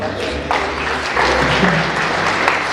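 Audience applause at a GAZ Commercial Vehicles showroom opening in Armenia, a steady wash of clapping running the whole moment with low rumble and some voices mixed in.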